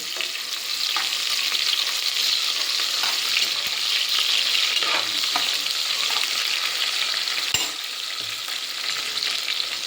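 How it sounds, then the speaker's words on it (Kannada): Chopped onions sizzle and fry steadily in a hot pan for a vegetable pulao, a bright continuous crackle with occasional stirring knocks and scrapes, no talking. "ಈರುಳ್ಳಿನ ಹಾಕ್ತಾಯಿದ್ದೀನಿ. ಈರುಳ್ಳಿನ ಚೆನ್ನಾಗಿ ಫ್ರೈ ಮಾಡ್ಕೊಳ್ತೀನಿ."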